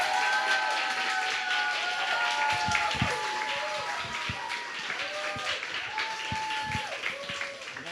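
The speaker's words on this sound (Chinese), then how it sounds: "所以这时候我们一起用掌声欢迎我们的周牧师" A church congregation claps together to welcome a pastor, a dense, sustained round of applause from a crowd in a worship hall, with a voice speaking over it throughout.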